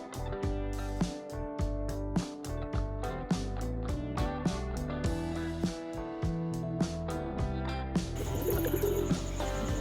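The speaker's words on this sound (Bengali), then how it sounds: "তো এই যে আমাদের অস্ট্রেলিয়ান ডাব।" Australian doves kept in a breeding cage give soft cooing calls over a loud backdrop of steady, tonal music, the birds faint and partly masked.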